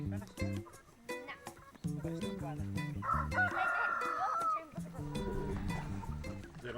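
A rooster crows among free-range chickens on a rural New Zealand farm, the crowing mixed in with music and a voice speaking over it.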